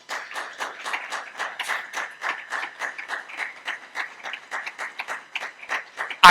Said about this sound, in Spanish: ¿por qué no les damos un fuerte aplauso?